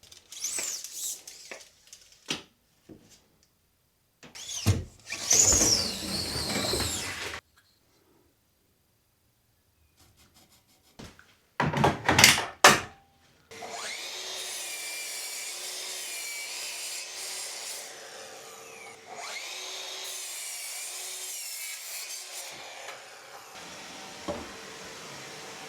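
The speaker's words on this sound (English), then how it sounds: "get the bits cut with the miter saw" Miter saw cutting workshop boards: scattered handling knocks, then short loud bursts of whining cutting, followed by a longer steady motor drone with a brief dip midway.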